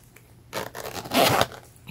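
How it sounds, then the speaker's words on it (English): A zipper is pulled open in a quick scratchy rasp, preceded by a brief rustle, close and fairly quiet. "Then it has the first zipper."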